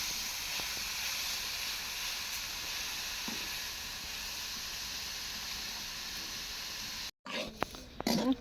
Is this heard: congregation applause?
no